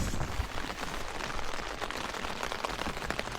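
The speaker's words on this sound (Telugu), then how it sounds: "చిటపడి చిటపడి చిటపడి చిటపడి చిటపడి అని వాన పడుతూనే ఉంది" Rain patters steadily and densely on a tent or nearby surface during camping in Germany, a close, continuous spray of small drops with no talking.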